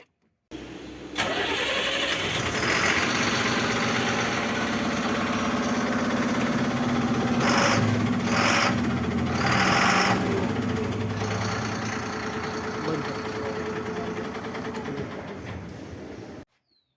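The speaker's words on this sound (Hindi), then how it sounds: "और अभी इंजन को स्टार्ट करके इंजन का साउंड सुनेंगे।" A Ashok Leyland 1920TN BS6 tipper truck engine cranks, fires and settles into a steady diesel idle, loud and close, running alone for about fifteen seconds with a few brief surges before it cuts off.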